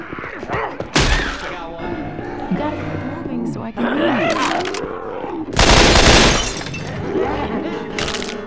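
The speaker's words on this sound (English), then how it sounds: "I got the assault rifle." Assault rifle fire in the Left 4 Dead 2 zombie shooter, Scavenge mode in a mall atrium, heard as loud broadband bursts, the longest lasting a couple of seconds, mixed with game sounds and players' voices talking.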